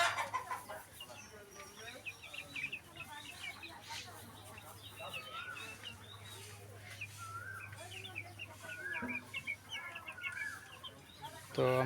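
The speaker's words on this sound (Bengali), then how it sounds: "আমি ছাদের ওপরে মুরগি পালন করছি এবং ডিমের মুরগিগুলো আমার ছেড়ে দেওয়া আছে" Free-ranging laying hens cluck repeatedly on a rooftop, a steady chorus of overlapping calls with a low constant hum beneath, growing busier toward the end.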